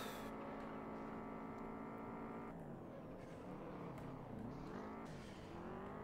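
Four-wheel-drive car in the racing game Juiced, engine revving hard and steadily with pitch shifting through gear changes and a dip as it slows, loud and constant throughout.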